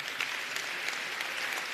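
Conference audience at a European science-for-policy event giving a round of applause, a brief, even wash of many hands clapping, fairly quiet and distant.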